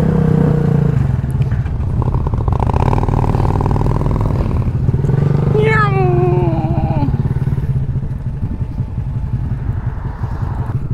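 A Suzuki Boulevard M109 cruiser motorcycle rumbles loudly and steadily nearby for the whole stretch, with a brief rising and falling whine partway through.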